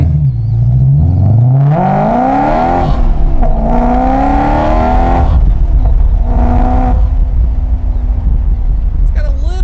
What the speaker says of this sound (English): It's got a little tiny little bit of burble, just a very tiny little bit.